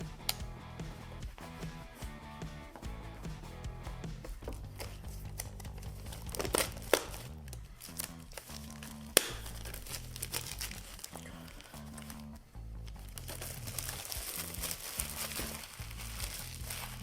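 Plastic wrap being cut and peeled off a Pyle PLMRB29 single-DIN car stereo, close crinkling and tearing rustles with occasional sharp snips and crackles throughout.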